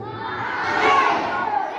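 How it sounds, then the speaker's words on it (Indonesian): Children shout together while jumping during a kids' religious class activity, a loud crowd-like burst of young voices that swells and holds for under two seconds. "Jadi sambil lompat sambil teriak tidak apa-apa."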